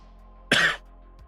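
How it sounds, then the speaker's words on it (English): A single loud, close cough bursts out on its own for about a quarter second, with no talking around it. "Apologies for the cough."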